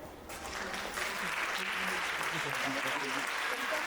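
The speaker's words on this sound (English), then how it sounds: "A big round of applause to the parents for their constant support" Annual day audience applauding the parents, a steady, faint wash of clapping from a large crowd at a distance that grows slightly fuller and holds for several seconds.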